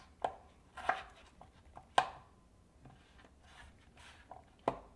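Potatoes are cut with a knife in a handful of sharp, irregularly spaced chops against a quiet background.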